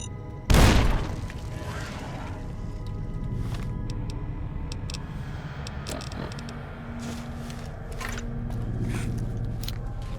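Geckos exploding in Fallout New Vegas, one sharp loud blast near the start followed by scattered thuds, crackles and scrapes as the fight continues at lower level.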